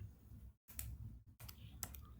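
A computer mouse clicks sharply a few times while software is being used, small crisp taps in a quiet room, close and isolated.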